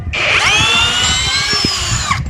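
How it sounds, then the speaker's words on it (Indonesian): MLHY M-60 10mm cordless impact drill running in drill mode, a steady high motor whine that spins up, holds for about two seconds, then winds down, loud and close with no speech. "Saya coba mode bor ya, ya sudah pasti bisa, tapi saya cuma cabut."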